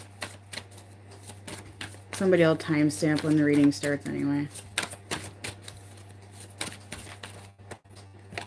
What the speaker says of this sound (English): I'll just shuffle on camera so people have time to get in.